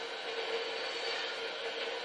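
A train in the video game GTA 5 rumbles past with a steady, loud rolling roar and hiss, constant throughout with no voices over it.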